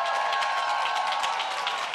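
An audience at a Charlotte, North Carolina town hall applauds for Congresswoman Alma Adams, a steady wash of clapping from a large indoor crowd with a faint sustained tone underneath.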